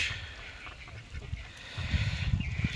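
A few ducks quack and honk in short bursts, fairly close, on a village duck and fish farm in Shibalaya, Manikganj, with a low background murmur between calls.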